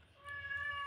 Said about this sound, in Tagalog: Meow iring. Meow iring.